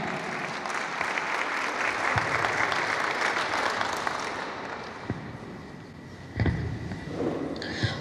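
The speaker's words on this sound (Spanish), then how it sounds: "Recibamos con aplauso" Applause from an audience at a retirees' association gathering welcoming a teacher, steady and sustained for several seconds before thinning out, with a few louder claps and thumps near the end.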